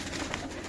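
A pigeon coos faintly, a soft low call heard over quiet background noise in a short burst.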